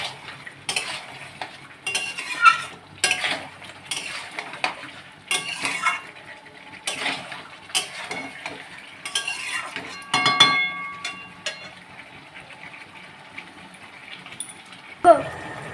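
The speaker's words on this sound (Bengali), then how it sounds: "আগে থেকে ভেজে রাখা আলুগুলো দিয়ে দিচ্ছি, ভালো করে কষিয়ে নেবো।" Chicken and previously fried potatoes are stirred together in a pan, with repeated utensil scrapes and metallic clinks over a light sizzle, and a voice heard at times.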